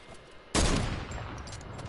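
A single loud, sharp sniper rifle shot cracks in a video game, followed by a lingering rumbling tail and reverberation that fades slowly.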